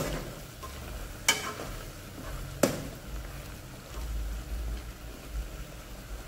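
A pan of yogurt chicken curry topped with fried onions is stirred gently, a soft bubbling sizzle running underneath with two sharp metallic clinks of the spoon against the pan, close and fairly quiet, no voices.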